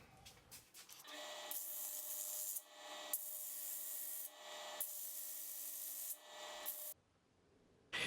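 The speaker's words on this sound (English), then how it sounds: "This is a sanding adapter I usually use on my angle grinder." An angle grinder with a sanding adapter flattens a wood and resin pendant casting, grinding loudly in several sustained bursts with short pauses between, a harsh abrasive rasp close by, then cuts off.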